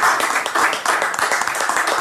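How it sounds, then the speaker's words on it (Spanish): Applause for Salsas del Primo homemade salsas at a bohemian pajama-party show, a dense steady clapping that holds loud and close from start to finish. "Aplauso para Salsas"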